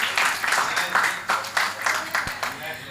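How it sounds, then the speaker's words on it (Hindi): An audience at a women's group cultural program claps in a dense, steady burst of applause, loud and close throughout. "तालियां हो जाएं।"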